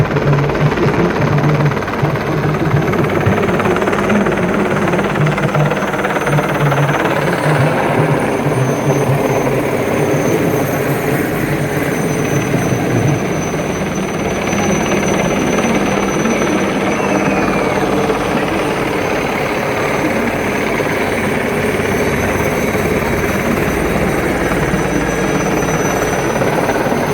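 Three Chetak helicopters fly toward the stage at an Army Day parade in Jaipur, a loud, steady rotor and engine roar that fills the whole stretch with no voices.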